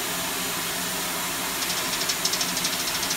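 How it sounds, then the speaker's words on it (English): A steam locomotive on the Severn Valley Railway works from the footplate as the regulator is opened: a loud steady hiss and roar, joined halfway through by a quickening rhythmic chuffing and clanking. "While Rob drove the engine, I shoveled coal for half the journey before we swapped over. Turn the regulator"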